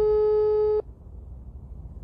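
A single steady telephone tone sounds for under a second while a call waits to be answered, then cuts off, leaving quiet room noise.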